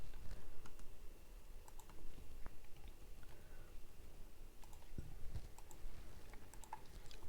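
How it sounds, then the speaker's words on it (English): Fast, uneven typing on a computer keyboard while entering a search term, a steady patter of faint close clicks with no talking. "So I am typing"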